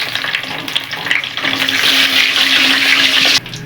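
Two bay leaves crackle and sizzle loudly in hot oil with cumin seeds tempering for a coconut milk egg curry, a steady bright frying hiss that cuts off abruptly near the end.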